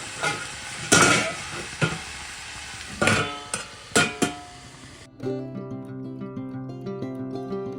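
Dried red chillies, nigella seeds and garlic crackle in hot oil for a tempering, with loud sizzling and several sharp spatter bursts and utensil knocks, then the sizzle cuts to a quieter tonal hum with lighter bubbling.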